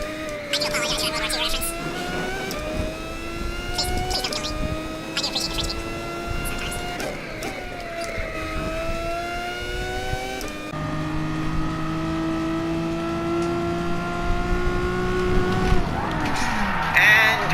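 Race car engines in the GT Sport Nations Cup racing game roar loud and continuous, revving up and dropping in steps through gear changes as cars chase a Viper.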